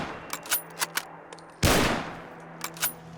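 A Mosin Nagant sniper rifle in Fallout 4 fires one loud, sharp shot with a decaying boom, set among several fainter bolt clicks and mechanical clacks before and after.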